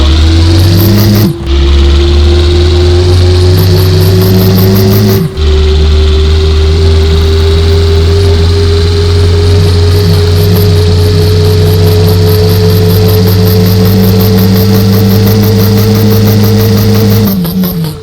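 Car engine in a video game runs loud and steady, with a constant drone that drops briefly twice and rises again as the engine revs.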